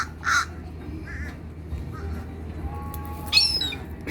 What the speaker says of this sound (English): The crow made that noise, eh?